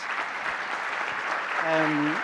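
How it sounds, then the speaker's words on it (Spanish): Audience applause for the panelists at an energy panel in Chile, a steady wash of clapping throughout, with a voice briefly speaking over it near the end. "Por favor, al público, un aplauso para nuestros panelistas."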